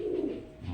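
Domestic pigeons, including Kalpetti and brown Gola breeds, give a short low coo, soft and close, with no talk over it.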